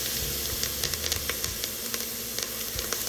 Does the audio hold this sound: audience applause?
no